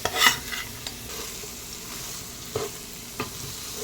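Egg fried rice being stirred gently in a pan, with a soft background sizzle broken by a few scattered scrapes and clinks of the spatula, near and alone.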